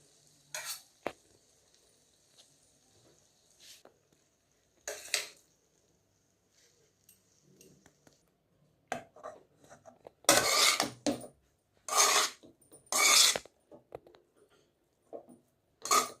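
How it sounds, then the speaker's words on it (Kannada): Cooked white jeera rice mixed in a pan with the stove off, heard as scattered scraping and clinking strokes of a spatula against the metal, sparse at first and then several louder bursts of rapid stirring. "ಅದಕ್ಕೆ ಸ್ಟವ್ ಆಫ್ ಮಾಡಿಕೊಂಡು ನಾವು ಹಾಕಿ ಈ ಥರ ಕಲಸಿದ್ರೆ ಬಿಡಿಬಿಡಿಯಾಗಿ ಚೆನ್ನಾಗಿ ಬರುತ್ತೆ"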